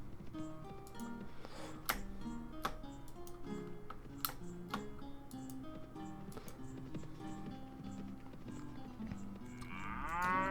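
Cattle lowing in the Mount and Blade Warband video game, several drawn-out moos over a busy bed of game music and ticking clicks, ending in a rising swell.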